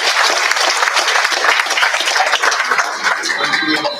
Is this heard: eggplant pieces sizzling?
no